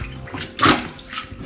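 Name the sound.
plunger pushing extra water out of toilet bowl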